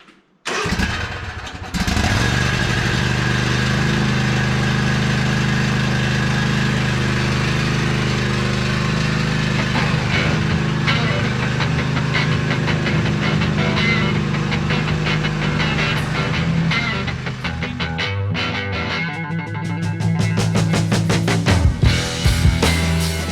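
A Husqvarna 254 ZeroTurn mower, pulled from a creek bed after being left for dead, starts up and runs steadily, its engine loud and close with a constant low drone and some rough, uneven spots near the end.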